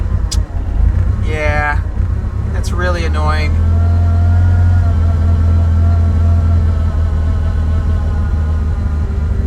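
A Mitsubishi Lancer Evolution VIII engine idles unevenly with a steady low rumble throughout, while a person speaks briefly near the start over the running motor.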